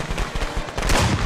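A rifle shot from the video game Friday the 13th: The Game, loud and close, with a sharp report swelling into a rumbling blast near the end.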